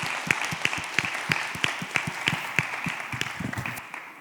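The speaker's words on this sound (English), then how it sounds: "Can we give a big round of applause to all of you who've showed up here?" Audience applause at an education conference panel, a moderate crowd whose claps ring out distinctly with a few stronger individual hits, rising and thinning over several seconds.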